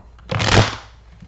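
Tarot cards are shuffled once in a single quick riffle lasting about half a second, close and fairly loud in an otherwise quiet room.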